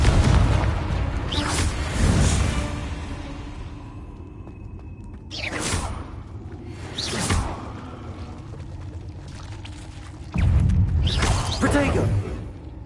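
Confringo spell blasts in Hogwarts Legacy land as several loud booming explosions with whooshing tails, spaced a few seconds apart with quieter gaps between them.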